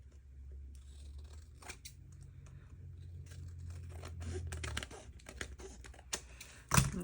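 Close scissor snips trimming paper for a purple journal on a glue mat, a run of quiet crisp cuts and rustles with a low hum beneath, ending in a sharper crinkle, no talk.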